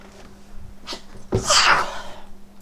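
A single sharp sneeze, preceded by a quick intake of breath, close and fairly loud against a quiet background hum.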